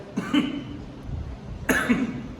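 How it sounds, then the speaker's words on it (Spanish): Two separate coughs from a preacher during a Sunday church service, brought on by drinking water, about a second and a half apart, close and moderately loud, with quiet room noise between them. "No es el virus, es nomás el agua que me dio tosecita."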